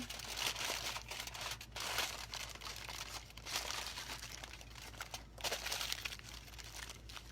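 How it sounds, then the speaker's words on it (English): Aluminum foil being folded up around a pack of vegetables for the grill, with continuous close crinkling and crumpling throughout. "And I'm going to fold up my foil pack."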